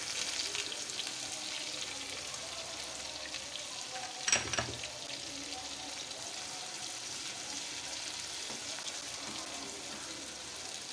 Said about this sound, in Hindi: इसके बाद डालूँगी प्याज ब्राउन करने।